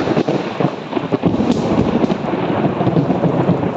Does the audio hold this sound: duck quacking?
no